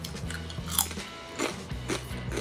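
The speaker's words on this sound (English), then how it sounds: "Hear that crunch?" Close bites into a crispy air-fried game-day appetizer, with three or four sharp crunches followed by chewing, loud and near with no talk over it.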